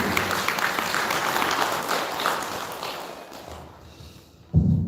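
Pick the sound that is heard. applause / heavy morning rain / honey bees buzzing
applause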